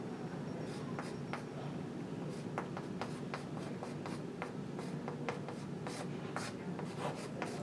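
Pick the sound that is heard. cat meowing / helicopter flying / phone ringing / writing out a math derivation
writing out a math derivation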